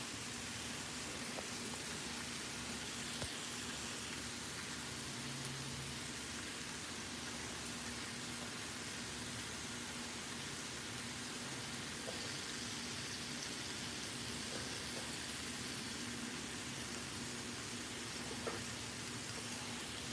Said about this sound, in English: it's raining. It's definitely raining.